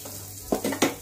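A pinch of asafoetida drops into hot oil in a kadhai, giving three short, crisp sizzling bursts close up against a quiet background hum.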